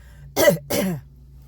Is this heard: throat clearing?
yes